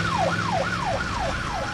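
Cartoon police car sirens wail in a steady repeating up-and-down sweep, loud and continuous with no talk over them.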